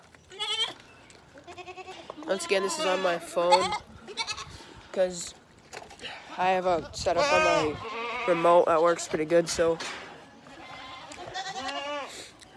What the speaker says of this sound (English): All the goats think they're getting fed.